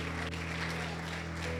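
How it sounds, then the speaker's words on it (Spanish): A church congregation claps for the King during a worship service, a short burst of steady applause over a sustained, humming musical tone underneath. "Dale ese aplauso al Rey bendito."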